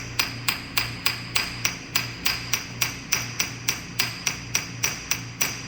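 Steady, evenly spaced metallic hammer taps on a gearbox main shaft during disassembly, about three strikes per second, ringing sharply with a low hum underneath.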